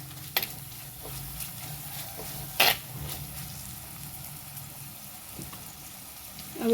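Onion with ginger-garlic paste fries in a pan, a steady soft sizzle with occasional stirring scrapes and a couple of sharper clinks, close and alone.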